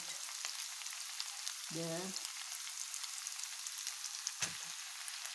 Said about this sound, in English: stir fry a little bit together with this carrot, so that the carrots will be cooked